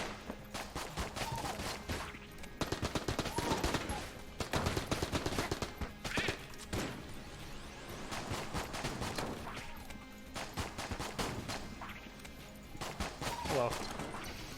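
Rapid bursts of enemy gunfire in the bullet-hell game Enter the Gungeon crackle and pop almost continuously, with loud clustered volleys and brief lulls.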